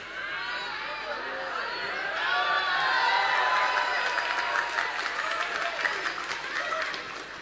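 An audience in a hall breaks into clapping and murmuring, the applause swelling in the middle and tapering off, fairly close and steady with crowd chatter underneath.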